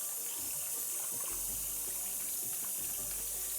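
A tap runs steadily into a sink to fill rinse water for developing film, a soft, continuous splashing flow that stays faint and alone throughout.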